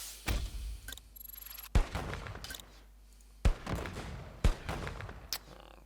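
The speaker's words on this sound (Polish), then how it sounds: "Tylko, że on oddał strzał" Tank cannon fire in the World of Tanks Generals card game: four sharp, booming shots spaced a second or two apart, each cracking loudly and then trailing off in a short rumbling decay, with no talk over them.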